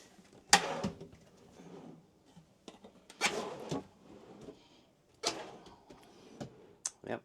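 Kitchen drawers on full-extension glides in a 2015 Newmar Dutch Star motorhome slide open and shut, giving several sharp knocks spaced a few seconds apart with softer rolling sounds between them, close by and quiet.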